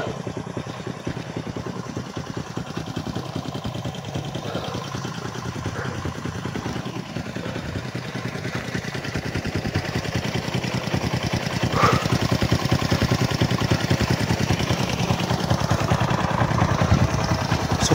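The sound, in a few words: motorcycle engine idling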